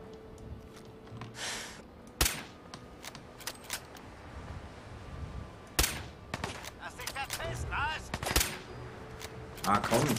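Scattered gunshots and short bursts of automatic fire from combat in Fallout 4 crack out at irregular intervals, sharp and loud, mixed with game effects and someone speaking.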